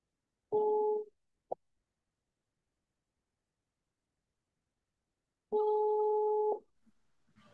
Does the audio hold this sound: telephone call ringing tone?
yes